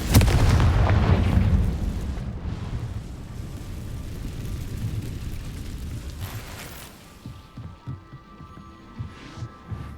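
A Confringo fire spell blasts in Hogwarts Legacy with a loud, booming explosion at the start, followed by a long rumbling, crackling decay and scattered thuds as debris settles.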